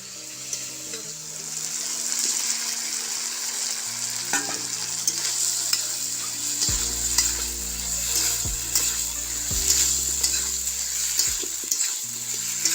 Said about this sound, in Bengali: এর মধ্যে এখন পটল ভাজি আর আলু ভাজিটা দিয়ে দেব।